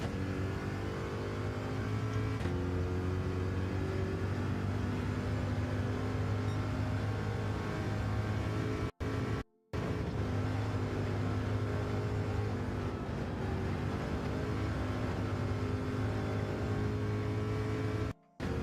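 A race car in Gran Turismo 7 laps the track, its engine droning steadily with rising and falling revs through gear changes, loud and continuous with two brief dropouts, no talking.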